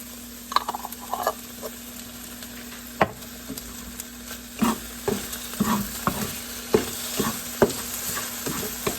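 Sliced ginger sizzling in a hot pan for Japanese shouga-yaki, with a steady frying hiss broken by repeated sharp scrapes and clicks of a utensil stirring it, close and fairly clear.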